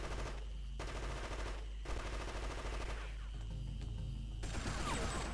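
Rapid automatic assault rifle fire in the video game Fear Effect, sustained bursts running almost continuously at a steady loud level with brief gaps, no voices.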